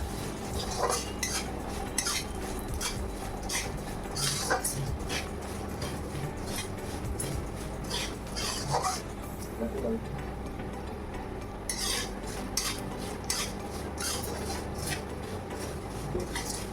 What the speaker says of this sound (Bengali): পোস্ত আর কাজু বাদাম আমি একটু নাড়াচাড়া করে নেব।